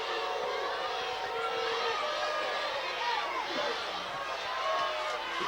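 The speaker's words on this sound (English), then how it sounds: "And the crowd boos." Crowd noise at a 2011 high school football game between Aberdeen and West Bolivar, a broad, steady roar of massed voices sustained throughout, with booing blended into the din and no clear pause.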